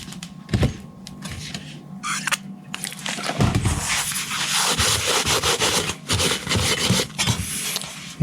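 Stainless steel on a turbo 2JZ-swapped Charger is rubbed clean with acetone on a cloth, giving close scrubbing and wiping strokes that grow steadier and louder, with a few knocks early on.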